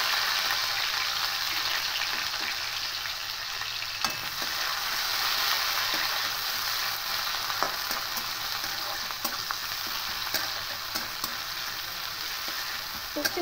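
Sliced onion with dried red chillies fries in hot oil, a steady close sizzle running throughout with occasional light clicks of stirring.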